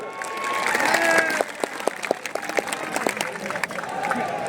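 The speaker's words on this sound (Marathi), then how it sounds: "आपल्या सगळ्यांसाठी एकदा जोरदार टाळ्या होऊन द्या." Crowd clapping and cheering at an outdoor political rally in Ranjangaon MIDC, a sustained broad wash of applause that swells early then continues steadily, with scattered sharp claps and whistles and a voice briefly heard over it.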